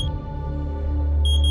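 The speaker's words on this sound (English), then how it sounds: "the basement smoke detector" An ADT basement smoke detector sounds a high, piercing electronic tone, one beep at the start and another rising near the end, over a low rumbling background.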